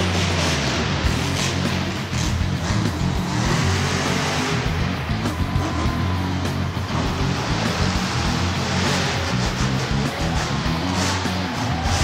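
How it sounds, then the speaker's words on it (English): A monster truck engine starts and revs, a loud, continuous low roar with rises and falls in pitch, sustained for the whole stretch and close up, with no voices over it. "turn to start the engine"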